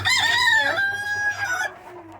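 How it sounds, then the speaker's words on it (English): Chickens in a homestead yard, with a rooster crowing loud and near in one drawn-out call, a softer clucking hen following faintly behind. "chickens in the yard"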